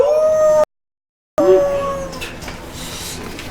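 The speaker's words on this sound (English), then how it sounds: "He howls like a wolf." A long, loud wolf-like howl rises and holds as a steady tone, breaks off into a short silence, then returns and trails away into fainter noise.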